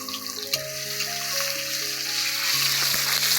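Onions sizzling in hot oil in a village kitchen, a steady bright hiss that builds slightly, with faint tones over it and no talk.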